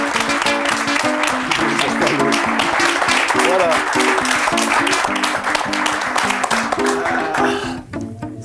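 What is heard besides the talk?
studio audience applause welcoming a guest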